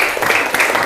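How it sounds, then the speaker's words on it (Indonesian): Classroom students clap for a student group after its presentation, a brief burst of dense, close applause. "Tepuk tangan untuk kelompok 1."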